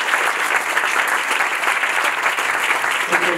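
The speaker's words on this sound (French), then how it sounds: "je pense qu'on peut tous se lever pour applaudir le professeur Maurice Schneider" Dense, sustained applause from an audience honouring Professor Maurice Schneider, loud and even throughout with no voices rising above it.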